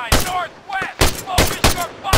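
Gunfire in the military video game Arma 3, set around a village house, with several loud sharp bursts of shots in quick succession, close and punchy, with no talk.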